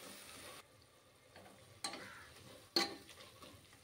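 Spice masala for chicken curry fries quietly in a pan, a faint low sizzle with a few sharp clinks and scrapes of a spoon against the metal.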